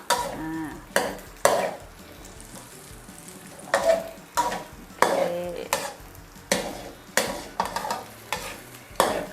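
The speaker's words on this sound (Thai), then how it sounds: "เราจะผัดให้ไข่แบบเป็นก้อนๆเลยนะคะ" Beaten eggs stir-fried in a pan until they set into chunks, for a Thai glass-noodle and cabbage stir-fry, with repeated spatula scrapes and clanks against the pan in irregular bursts over a soft, steady sizzle.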